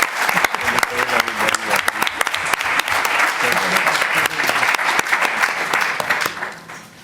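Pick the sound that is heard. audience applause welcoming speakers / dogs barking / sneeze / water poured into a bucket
audience applause welcoming speakers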